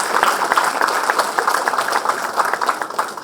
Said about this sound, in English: It calls for a round of applause.